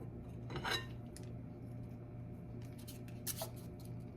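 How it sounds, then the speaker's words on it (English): Blueberry muffin batter scooped with a metal scooper into paper liners, giving soft scraping and clinking of the utensil against a bowl, with a couple of brief louder scrapes near and clear. "we're going to get our scooper and we're going to scoop out"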